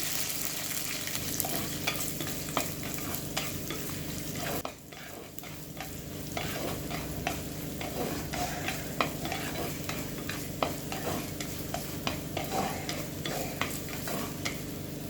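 Chopped onion sizzles steadily in hot oil with curry leaves, with a brief pause and repeated light stirring scrapes throughout; no voices.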